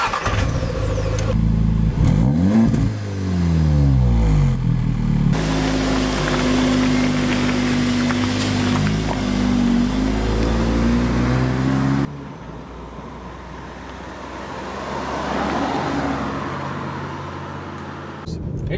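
A 2013 Audi S3 quattro sedan pulls away and accelerates, its engine revving loud and close under continuous talk, with the tone shifting partway through as it gains speed.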